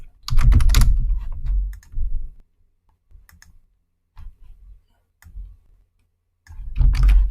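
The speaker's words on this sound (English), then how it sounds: "Type in the address." Bursts of fast computer keyboard typing as a property address is entered, loud clustered keystrokes in a few runs with short pauses between, heard alone without any talk.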